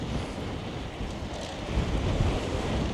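Strong wind buffets the microphone while cycling a gravel road on a bike tour near Oulu, Finland, a loud continuous rushing roar that swells toward the end.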